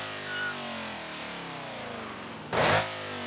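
A modded car's engine in BeamNG.Drive, likened to a Hellcat, revs with a steadily climbing whine, then gives a sudden loud burst before settling again, with no voices.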